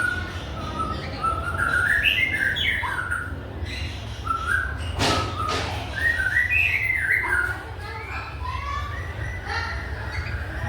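A captive-bred white-rumped shama (murai batu) sings bright, varied whistled phrases and chirps over a steady low background hum, with a brief sharp click midway and a flurry of rapid notes near the end.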